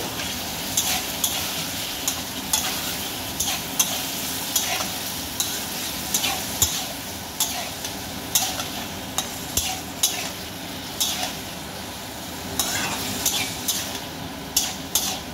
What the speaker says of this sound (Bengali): কাবলি ছোলা আলুটা দিয়ে এবার কষতে থাকবো।